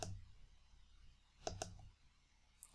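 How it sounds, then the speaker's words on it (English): A computer mouse clicks a couple of times in quick succession, close and crisp against a quiet room, followed by one more faint click. "And then if I click on this one,"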